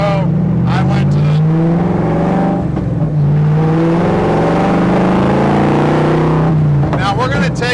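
A 1965 Shelby Daytona Factory Five Gen 3 replica's V8 engine idles and revs loudly nearby in a deep continuous rumble, with brief quieter dips and a revving surge near the end.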